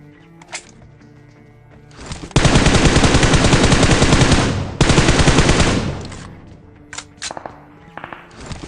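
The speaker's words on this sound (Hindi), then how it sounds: "क्योंकि भैया बहुत देर से गन साउंड आ रहे हैं उधर भी" Loud, close automatic gunfire in the shooter game PUBG Mobile, a sustained burst of rapid shots lasting a few seconds, a brief pause, then a second burst, followed by scattered quieter game sounds.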